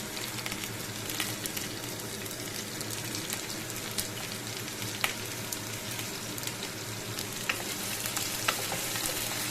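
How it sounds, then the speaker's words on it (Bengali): Potatoes frying in a pan and being stirred with a spatula: a constant close sizzle with scattered sharp pops and light scraping ticks, no voices. "খুন্তিটা দিয়ে আলুটা একটু নাড়াচাড়া করে নিচ্ছি আমি"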